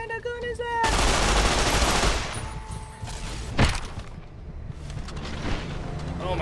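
Automatic gunfire bursts out in rapid volleys during a fight in the game Fallout New Vegas, loud and dense at first, then tapering into scattered shots and thuds, with voices talking under it.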